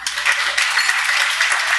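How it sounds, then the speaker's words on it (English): Audience applause at a State of InfoAge 2018 gathering after a board chairman is introduced, a steady, full wash of many hands clapping throughout. "Do me a favor, hold your applause"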